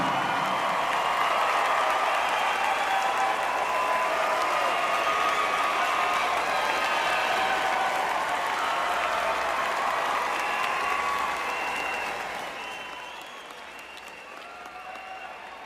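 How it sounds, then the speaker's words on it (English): A large graduation commencement audience in an arena applauds loudly and steadily, the dense, sustained clapping thinning out near the end. "Thank them with a round of applause."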